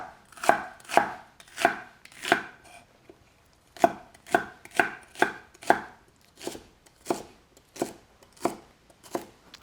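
A knife chops celery and other vegetables on a cutting board during wok-fried noodle prep, a steady run of about eighteen crisp, close strikes with a brief pause partway through, and no talking.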